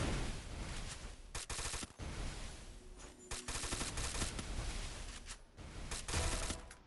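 Shotgun blasts from a multiplayer shooter game ring out in dense, rapid bursts of repeated loud shots with brief pauses, layered with other gunfire throughout.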